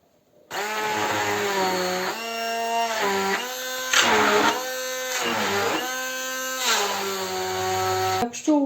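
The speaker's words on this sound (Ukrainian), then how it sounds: "І це все збиваємо блендером до однорідної маси." Blender whirring through cottage cheese and pumpkin casserole batter, a loud close motor whine that rises and dips in pitch across several pulses before cutting off abruptly at the end.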